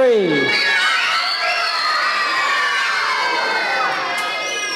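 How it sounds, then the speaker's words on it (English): A crowd of children at a church vacation Bible school opening assembly scream a name loudly in unison, a sustained, high-pitched collective shout that fills the whole moment with cheering energy. "on the count of three, you gotta scream Mario."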